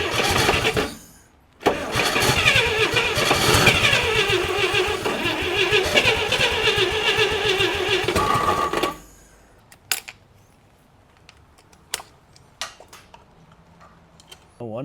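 A 1957 GMC half-ton pickup engine cranks with a loud rhythmic churning, runs roughly for several seconds, then cuts off abruptly, leaving quiet clicks and a few sharp knocks.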